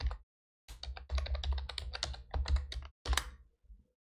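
Rapid bursts of keystrokes on a computer keyboard as a username and password are entered, crisp close clacking in two runs separated by a short pause, then a final few keys.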